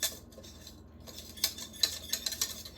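A metal utensil scrapes and clinks against a pan while stirring a thick roux of fat and flour, a series of irregular light taps and scrapes, close and fairly quiet.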